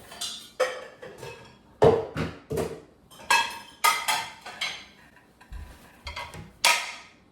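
Dishes and cutlery being unloaded from a dishwasher in a home kitchen: a steady series of separate clinks, clatters and knocks, close and moderately loud, with no talking.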